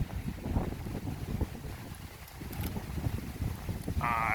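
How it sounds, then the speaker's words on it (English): Wind blowing outdoors along a country road, a gusty, rumbling buffet that swells and eases across the whole stretch, with no talking. "It's quite windy."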